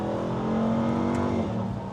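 A 2025 Ram TRX's supercharged V8 revs loudly and steadily up close, its deep supercharged roar holding for about two seconds with a slight dip near the end.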